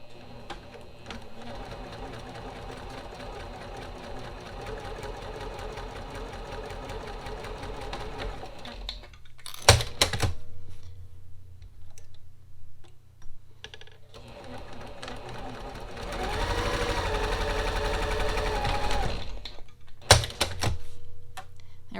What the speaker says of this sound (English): so that when I sew, I will create a seam that is a 1/4 of an inch off that